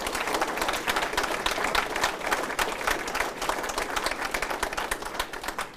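Audience applause at the close of a panel session, a dense, steady clatter of many hands clapping throughout, fairly close and sustained with no talk over it.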